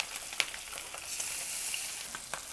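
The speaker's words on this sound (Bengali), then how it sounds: "লক্ষ্য করলে হয়তো দেখতে পাচ্ছেন মাছগুলো কিন্তু ছিটতে শুরু করেছে।" Pabda fish frying in hot oil over a low flame, giving a steady close sizzle with sharp pops and splatters throughout.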